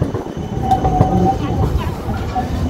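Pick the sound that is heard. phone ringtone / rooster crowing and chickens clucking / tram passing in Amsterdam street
tram passing in Amsterdam street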